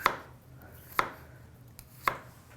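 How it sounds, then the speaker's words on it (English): Three sharp, evenly spaced knife strikes on a cutting board while garlic is minced, close and crisp against a quiet kitchen. "I've got my garlic right here. Let's kind of get that minced up real"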